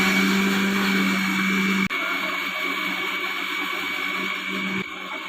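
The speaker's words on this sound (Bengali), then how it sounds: "দেখুন, আমি মশলাটা মিক্সিতে করে নিচ্ছি" An electric mixer grinder grinds ginger into spice paste, a steady high whine with a brief cutout partway through, loud and close with no talking.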